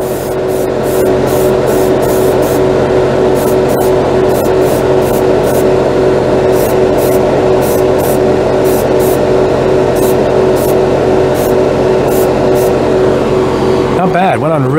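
An airbrush sprays lacquer paint over Tamiya primer with a steady, loud, continuous hiss of air close by, running without a break throughout, with no talk.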